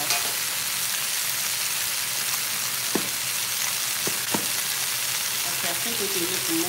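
Meat sears in a hot pan for birria tacos, giving a steady, close sizzle throughout with a few sharp crackles and pops.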